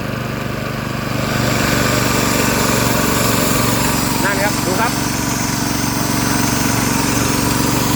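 A small engine hums at a steady, unwavering pitch throughout, with someone speaking briefly over the constant drone.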